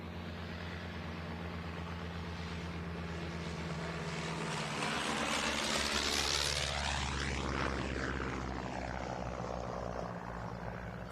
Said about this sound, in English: This is followed by 2 of the 3 remaining airworthy Miles Magisters, accompanied by the collection's new de Havilland Chipmunk